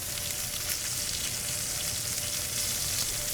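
Steak sears in a hot pan with a bright, steady sizzle and crackling spatter that stays constant and close throughout, with no voices.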